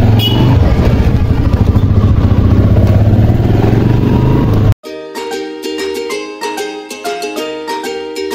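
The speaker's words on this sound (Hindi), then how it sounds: "तो गाइस अभी चलते हैं बाइक पे और शिवम को लेते हैं" A motorcycle being ridden, its engine droning loudly with clattering road noise for several seconds before cutting abruptly to a quieter, steadier engine hum.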